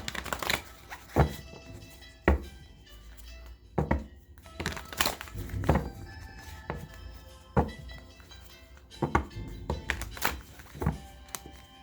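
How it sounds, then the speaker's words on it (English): Tarot cards being shuffled and handled in bursts, with soft slaps, riffles and crinkles spaced every second or so, close and fairly quiet. "As I'm shuffling through the cards"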